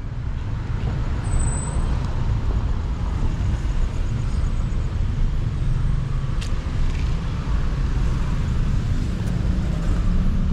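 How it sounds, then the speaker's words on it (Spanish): Busy street traffic in Guatemala at Christmastime, with cars, buses and trucks rumbling past in a steady, loud roadway roar and an occasional hiss of air brakes, with no talking. "Vean cómo está el tráfico por acá."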